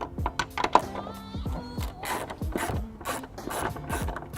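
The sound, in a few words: 10mm ratchet removing tail light nut on 2017 BMW X1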